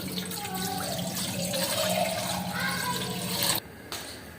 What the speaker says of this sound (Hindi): इसके बाद हम इसमें पानी डालेंगे।